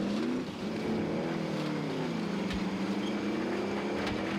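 A vehicle driving in Call of Duty Warzone produces a steady, close engine drone whose pitch rises and falls with the throttle, with no talking over it.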